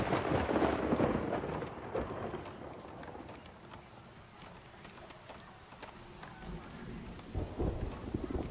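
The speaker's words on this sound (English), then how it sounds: "The lightning begins." Thunderstorm in the city-builder game Farthest Front, with steady rain hiss and heavy rolling thunder that is loud at the start, fades through the middle and swells again near the end.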